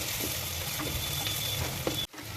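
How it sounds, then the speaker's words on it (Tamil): Crushed garlic fries in oil for a clay-pot fish curry, a steady, close sizzle that cuts off abruptly near the end. No talking. "பூண்டு எண்ணெயிலே நல்லா வதங்கணும்"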